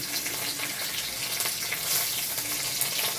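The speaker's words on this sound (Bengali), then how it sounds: "এখন তেলে দিয়ে দিচ্ছি কালো জিরে, দিচ্ছি রসুন কুচি।" Black cumin seeds and chopped garlic go into hot oil for a Bengali bean bharta. A steady, soft hiss of frying holds evenly throughout, with no talking.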